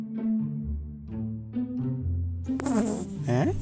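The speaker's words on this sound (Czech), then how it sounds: "A doslova za pár vteřin kousek od něj usazujeme nic netušící mouchu." A housefly buzzes in steady, droning bursts close by as it lands on a bench near a praying mantis, with a brief voice breaking in near the end.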